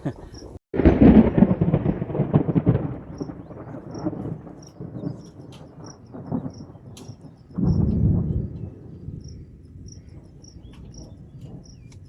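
Thunder rumbles loudly as rain begins during a Ugadi festival gathering, a long low roll near the start and a second swell later, with crickets chirping steadily in the background.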